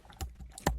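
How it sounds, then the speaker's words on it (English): Quick keystrokes on a computer keyboard, two sharp clicks close to the mic in a quiet room. "you can clone this repository by simply typing git clone, then this URL."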